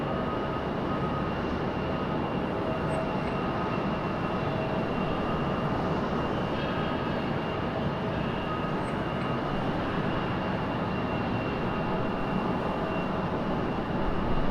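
A Bahamasair airliner at Raleigh-Durham airport gives off a steady, distant jet roar, an even broadband rush that holds for the whole stretch with no voices.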